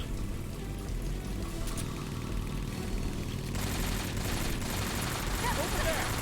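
Sustained gunfire in Metal Gear Solid 3: Snake Eater, a steady dense rattle of shots that grows harsher and brighter partway through, loud and continuous throughout.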